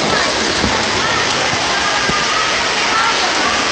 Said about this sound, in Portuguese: Todo mundo debaixo de chuva